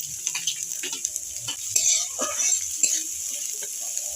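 Pickled chilies go into a pan of drumstick greens, giving soft sizzling, stirring and light utensil clatter in a quiet kitchen.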